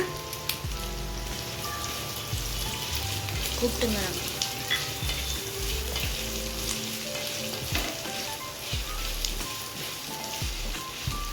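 Onions fry in a pan for chicken curry after garlic and ginger go in, a loud continuous sizzle like heavy rain with low thumps and stirring scrapes, no talking.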